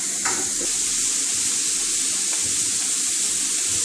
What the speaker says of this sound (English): we're going to mix this around and let it sweat